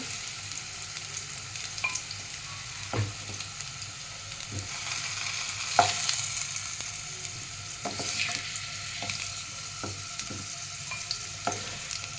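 Potatoes fried reddish-brown in oil in a pan give a steady soft sizzle, broken by scattered sharp taps and scrapes of a spatula moving them around.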